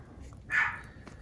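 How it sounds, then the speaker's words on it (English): A pet dog barks once at a distance, a brief muffled yelp rising over a quiet room where resin pouring with mica powder is underway. "Oh, you can hear my dog barking."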